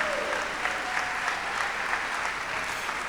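A steady, dense round of audience applause for the women of the African American Leaders Host Committee at an event honoring Opal Lee, the Grandmother of Juneteenth. The clapping holds at an even level throughout, with no voices on top.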